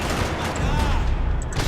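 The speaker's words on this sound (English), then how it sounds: "Another parking lot rattling with gunfire." A dense burst of gunfire rattles through a parking lot shootout in the video game Max Payne 3, loud and continuous, with overlapping shots and booms.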